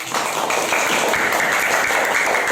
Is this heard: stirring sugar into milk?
no